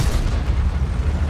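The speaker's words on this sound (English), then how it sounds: "there comes the artillery" A deep, heavy rumbling boom of artillery fire in a World of Tanks tank game, loud and sustained for about a second, with no talk.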